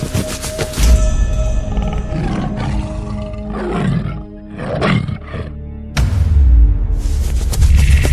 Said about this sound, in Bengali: ডাকছে তো বাঘের মতো